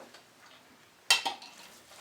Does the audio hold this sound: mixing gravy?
yes